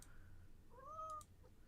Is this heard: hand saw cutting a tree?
no